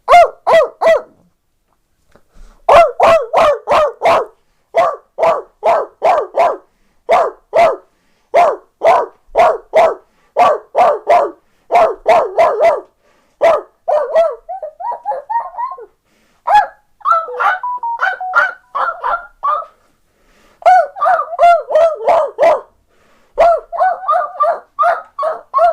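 A person imitates a dog barking, loud close-up voiced barks in rapid bursts and trains, pausing briefly, then turning into drawn-out howl-like and yappy calls near the end.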